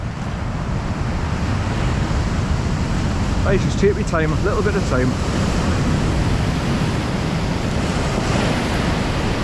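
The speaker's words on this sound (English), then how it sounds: "you can see that the waves are getting stronger and stronger and bigger and bigger and coming in faster and faster" Sea waves breaking at Marsden beach in South Shields, a steady, loud broadband wash of surf with wind noise, while someone speaks briefly over it near the middle.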